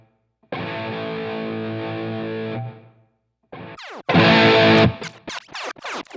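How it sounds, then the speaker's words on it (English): An Eventide H90 tape echo effect on electric guitar: a sustained distorted chord rings for a couple of seconds, then a second loud chord whose repeats sweep and smear in pitch as the tempo shifts, trailing off in choppy echoes. "You can hear the tape echo on the Eventide H90 kind of doing its tape echo thing as the tempo changed."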